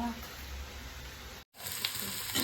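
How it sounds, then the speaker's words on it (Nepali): Ginger and garlic sizzle loudly in hot oil, a steady crackling hiss that briefly cuts out, then resumes with light stirring. "यो चाहिँ अदुवा र लसुन हो, यसरी तेलमा फ्राई गर्नुपर्छ"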